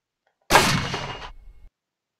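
A Roblox rail gun fires once, a sudden loud blast that holds as a bright, harsh roar for nearly a second before cutting off, then falls into silence.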